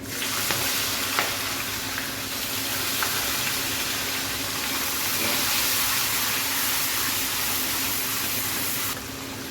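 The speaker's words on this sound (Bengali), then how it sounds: "এখন এর তেলের মধ্যে পেঁয়াজ কুচি দিয়ে দিব।" Oil sizzles and crackles loudly and steadily as chopped onion fries close by, with a few brief pops and stirring scrapes throughout.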